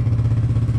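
A small engine idles roughly with an uneven, pulsing beat, running alone at close range; it has sat unused for a while and may have stale fuel.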